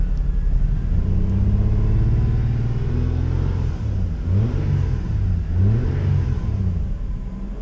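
A car engine rumbles loudly up close, its pitch rising and falling through several quick revs before settling into a steady idle, with no voices.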